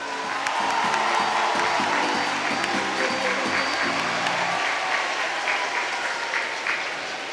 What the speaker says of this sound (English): Audience, can we have another round of applause?